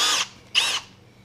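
A power drill spins a carbide annular cutter into stainless steel at low RPM, sounding as two short bursts of high, whining motor noise separated by a brief pause, close and clear with no talk.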